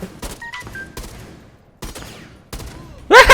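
Gunfire in the tactical shooter Rainbow Six Siege, with several short close bursts of shots spread across the moment and a loud, dense volley at the end, alongside some game sound effects.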